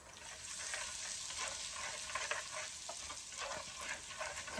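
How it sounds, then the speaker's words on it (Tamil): Medium-sized large onions and small shallots sauté in a pan for a dry fish curry, a steady close sizzle with scattered stirring clicks and scrapes throughout, no voices. "ரெண்டு மீடியம் சைஸ் பெரிய வெங்காயத்தையும் சின்ன வட்டி போட்டு இதோட சேர்த்து வதக்குறேன்"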